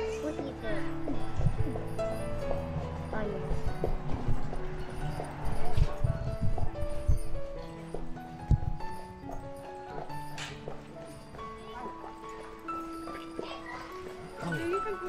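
A white horse pulls a carriage at the port of Echuca, its hooves clip-clopping in an uneven rhythm near by, with people talking over them and other street noise behind.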